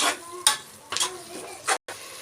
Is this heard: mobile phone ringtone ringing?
no